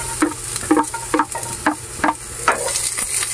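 Onions and garlic sauté in a pan with a steady soft sizzle, broken by a series of close scraping stirs at a roughly even pace.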